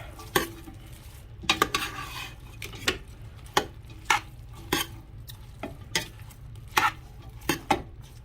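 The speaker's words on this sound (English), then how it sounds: "Just stir all of that up." Cabbage and hamburger meat are stirred in a frying pan over medium heat. A utensil scrapes and clacks against the pan about a dozen times at an irregular pace, close by, over a soft, continuous sizzle.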